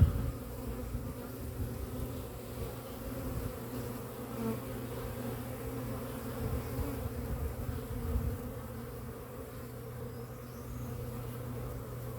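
Honeybees buzzing at a beehive on a sunny February day, a steady dense hum of many insects close by, with no talking.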